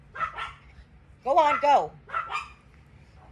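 Several dogs bark in short yips and woofs at a reborn-doll chat at home, with bursts around the start and middle of the clip, mixed with a voice telling them to go out.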